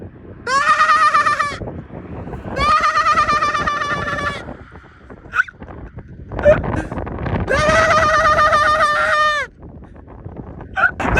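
Sheep grazing in Edinburgh, Scotland, give three long, wavering bleats that rise above a soft outdoor background, with short quiet gaps and faint scattered sounds between the calls.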